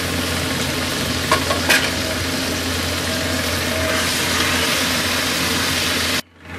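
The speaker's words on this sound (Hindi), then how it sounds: "अब इसमें हम टमाटर डाल के उसको भी अच्छे तरीके से भून लेंगे।" Chicken pieces and tomatoes fry loudly in a pan, a steady dense sizzle running throughout with a couple of brief stirring clinks, then cutting off abruptly near the end.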